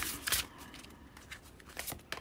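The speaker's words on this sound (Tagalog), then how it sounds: "Kuha pa tayo ng ibang baraha." Tarot cards are shuffled and drawn by hand, producing several quick crisp riffling and slapping bursts spaced irregularly, close and fairly soft, with no speech over them.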